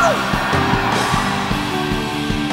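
Youth crowd at an evening worship camp session yelling and whooping together, a loud sustained roar of voices over booming band music with steady drum hits.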